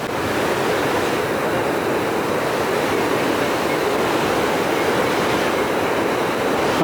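Sea waves break on the coast near Vizhinjam, Kerala, a loud continuous roar of surf that holds steady throughout with no voices.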